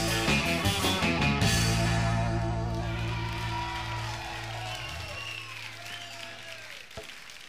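Loud crowd applause with cheers and whoops at a live Spanish garage roots rock show, layered over ringing sustained band tones that fade as the clapping thins toward the end.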